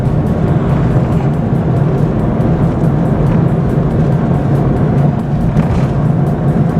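A car with a VAG DSG7 DQ200 dry-clutch gearbox climbs uphill, a steady loud engine and road drone filling the whole stretch with no distinct break at the gear changes.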